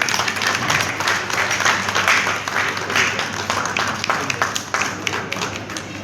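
Audience applause at a community event held by a local social organization, a moderate, uneven patter of clapping with scattered sharper claps, fairly close and unaccompanied by clear talk.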